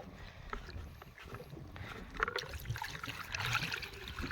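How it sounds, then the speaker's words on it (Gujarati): Irrigation water flowing into a field channel on a village farm: a faint, steady wash of trickling water with a low rumble, continuous throughout and heard alone. "આમાં તો પાણી આવતું લાગે"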